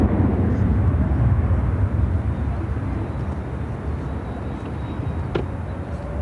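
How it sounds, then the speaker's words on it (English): A Boeing 737-900ER taking off at Chicago O'Hare, a loud, steady jet roar that eases slightly as the clip goes on, with no talk over it. "Taking off to Minneapolis on a 737-900ER"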